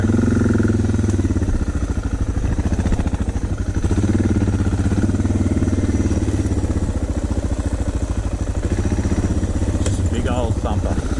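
A Suzuki DR650 single-cylinder motorcycle engine runs steadily with a low, throbbing thump, loud and continuous throughout, with a brief extra clatter near the end.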